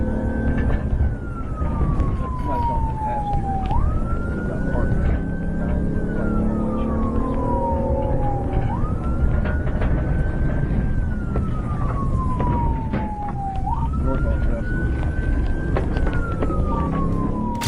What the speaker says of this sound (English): Even with sirens wailing, the gap only grew wider